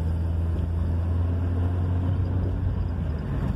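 A 1985 Volkswagen Santana with an automatic gearbox pulls away and moves up through its gears, its engine giving a steady, close low rumble throughout with no voices.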